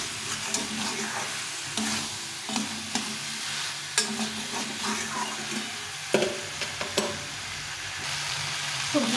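Vegetables sautéing with spices in a pan for a cauliflower and chhana curry: the food sizzles softly while a spatula scrapes and stirs in repeated, uneven strokes close by.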